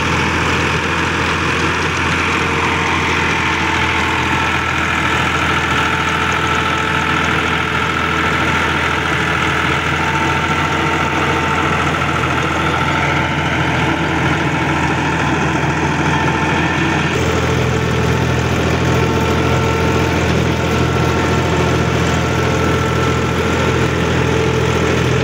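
A Massey Ferguson 260 Special Edition tractor drives a 48-blade rotavator, its diesel engine droning steadily and loudly up close, with a slight shift in tone partway through and no voices.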